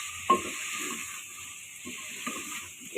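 Spices and chili being stirred in a frying pan for a potato and eggplant curry, soft scraping strokes over a steady sizzle, with a couple of sharper clinks of the spoon against the pan.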